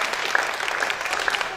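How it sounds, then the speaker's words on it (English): An audience at the Cinderella Cures Comedy charity show breaks into loud, close, continuous applause, with a few sharper claps and faint crowd noise running under it. "Guys, give my Auntie Monks a round of applause."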